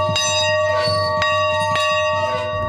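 Church bells ring out in Center Point during a high school football game between the Pirates and Charlotte, steady sustained tolling with several sharp strikes and a low crowd rumble beneath, no talking.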